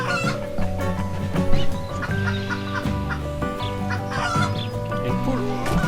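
Chickens cluck repeatedly in a survival video game over background music, with short clucks scattered throughout and a faint crow mixed in.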